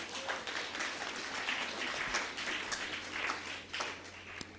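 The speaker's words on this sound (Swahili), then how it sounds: "Tujipigie makofi." A church youth seminar audience clapping together, a dense, steady patter of many hands at moderate distance lasting several seconds.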